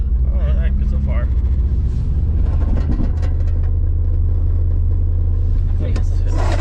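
A VR5 Savoy car engine pulls in second gear with a loud, steady low rumble, and brief voices sound over it.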